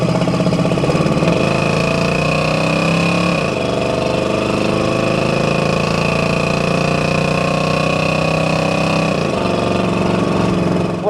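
A 1966 Chevrolet C10 with a 350 V8 and aluminum heads pulls loudly and steadily on a test drive, its engine note rising as it accelerates, easing briefly, then climbing again inside the cab.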